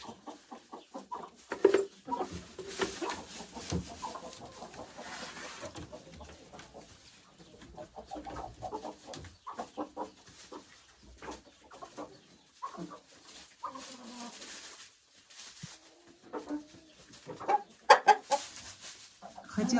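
Hens clucking in a henhouse where eggs are being gathered, a busy chorus of near and slightly distant clucks and squawks with occasional louder calls, continuous throughout.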